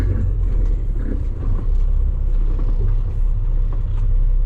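A 2024 Kenworth T880 truck carrying a 15-ton load rumbles steadily as it pulls out of a pit, a deep continuous drone close to the microphone.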